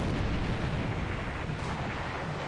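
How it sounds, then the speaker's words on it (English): Destroyer Kamikaze opening fire with its guns in a naval wargame, heard as a dense, continuous rumble of booming gunfire and blasts, loud and sustained throughout with no talking. "the destroyer kamikaze opening fire here"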